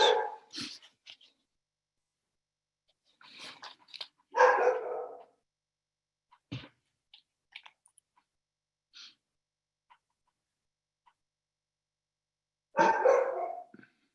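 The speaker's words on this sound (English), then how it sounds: "My dog's barking." A dog barks in scattered bursts, a few loud barks separated by quiet gaps, with softer whimpers and yips in between.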